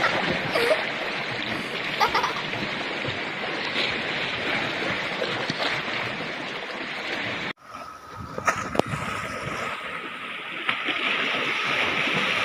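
Continuous wash of sea surf and moving water, fairly loud and close, briefly cut off midway before the rushing water sound returns, at Umbrella Rocks, Agno, Pangasinan.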